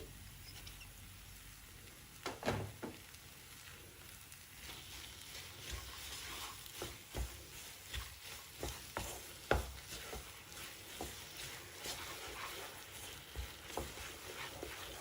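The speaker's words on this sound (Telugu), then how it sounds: "ఇలా తిప్పుకుంటూ దీన్ని ఉడికించుకోవాలి." Poha rava kesari cooked with grated jaggery is stirred in a pan: a faint, steady bubbling sizzle, broken by a soft scrape or tap of the spoon about once a second.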